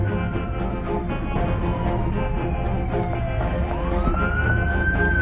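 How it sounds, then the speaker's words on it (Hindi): An ambulance siren wails with rising and falling tones over loud traffic rumble, passing close by in a continuous, fairly loud sweep with no speech. "पुलिस नहीं है, एम्बुलेंस जा रही है।"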